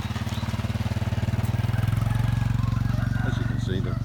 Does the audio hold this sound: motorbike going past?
yes